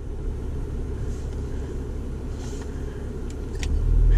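A 2021 Acura TLX Type S cruising in sport mode gives a steady low road rumble and engine drone at moderate level, swelling louder near the end as it accelerates.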